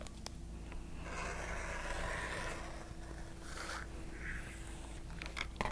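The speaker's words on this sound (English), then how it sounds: "I'm going to trim off this fold here" A rotary cutter slicing through a folded fabric edge along a ruler, giving a continuous close scraping, rasping sound with a few light taps and clicks at the start and end.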